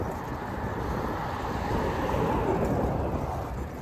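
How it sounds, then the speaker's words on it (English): Wind buffeting an outdoor microphone during an Arctic cold blast, a steady broadband rumbling roar that holds level for several seconds with no voices. "I don't know how my audio is going to sound with the wind"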